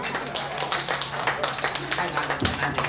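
A ceremonial audience claps at a Qinqiang opera discipleship ceremony, a dense, continuous patter of hands heard fairly close, mixed with a speaking voice.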